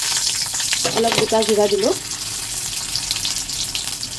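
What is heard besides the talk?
chili and spices sizzling in hot oil in a wok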